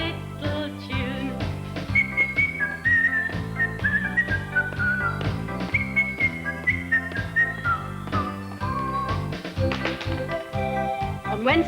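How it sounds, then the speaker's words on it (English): A happy, catchy little tune is whistled in bright, sliding phrases over a light musical backing with soft rhythmic tapping throughout. "I whistle this very happy, catchy little tune"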